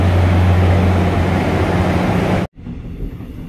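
Train noise at a railway station in South Korea, a loud steady low rumble with a constant hum that cuts off abruptly, leaving quieter ambient station sound.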